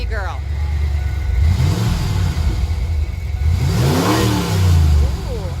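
A van's V8 engine, freshly fitted with new spark plugs and wires, revs up in two swelling bursts with a deep rumbling idle between them, while people talk over it.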